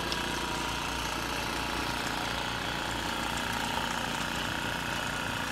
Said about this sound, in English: Dude's got a snowblower going.